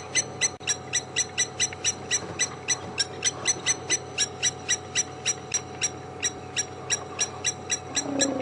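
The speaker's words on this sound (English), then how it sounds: "Lapwing is in my ears." A lapwing calls repeatedly during an afternoon safari drive at Djuma Game Reserve: a rapid, evenly spaced run of sharp, piercing notes, fairly close and clear over a low steady hum, with no talking.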